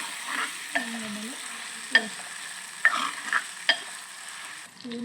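Ginger, garlic and boiled, peeled taro root fry in a pan with a soft, low sizzle, broken by a few sharp clinks of a spoon against the pan at irregular intervals.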